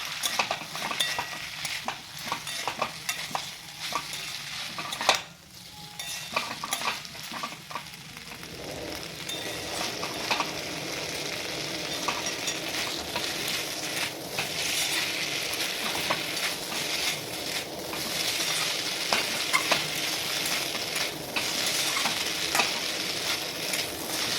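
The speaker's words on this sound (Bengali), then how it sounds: "এবার ভালোভাবে চাউমিনটাকে মিক্স করবো।" Chicken chow mein is stirred and tossed in a frying pan, with a spatula scraping steadily over a continuous close sizzle that grows louder and denser toward the end.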